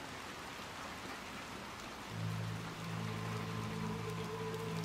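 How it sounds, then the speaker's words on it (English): Steady rain falls in the video game Little Nightmares 2, a continuous wash of drops and hiss with a low ambient hum joining partway through, no voices. "it's raining. Okay, come on, Six. Let's get you out of the rain."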